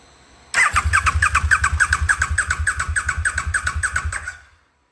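A KTM RC8R motorcycle fitted with a 2020-or-later Superduke engine is cranked over by its starter without firing, a loud, close, rhythmic whirring chug of about four seconds that stops abruptly, with no talking.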